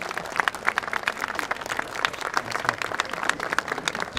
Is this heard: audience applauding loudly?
yes